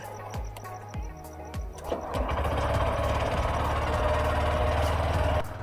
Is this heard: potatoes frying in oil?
no